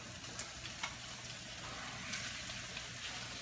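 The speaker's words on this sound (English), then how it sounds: "So I'm gonna get these shrimps cooked in here real quick." Shrimp cook in a pan with smoked sausage meat and onions, giving a steady, soft hiss and sizzle, with a few faint scrapes of stirring and no voices.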